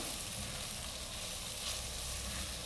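Vermicelli being stirred and toasted in a pot for carrot vegetable soup, giving a steady close sizzle with faint scraping of the spoon, unbroken and without voices.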